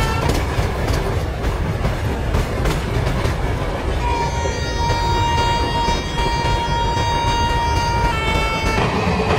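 A Rajdhani Express train gathers speed on rails, with a continuous rumbling roar and rhythmic clickety-clack of wheels, while a sustained horn tone sounds through the middle and latter part.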